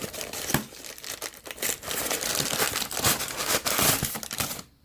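A taped shipping package holding a Spyderco Endela knife is torn open by hand, with continuous close crinkling and ripping of paper and tape that stops abruptly at the end.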